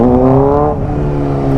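Suzuki GSX-R 600 sport motorcycle engine, a loud, steady, close high-revving drone whose pitch dips slightly partway through and then holds.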